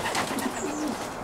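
Racing pigeons coo softly inside a loft, a low murmuring rolling coo repeated under a steady background hum, fairly close and moderately loud.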